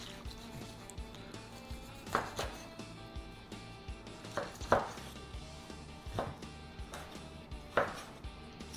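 A knife chopping through a smoked, pulled pork butt on a board, striking in a steady series of sharp, fairly close thuds and squishy cuts, with no talking.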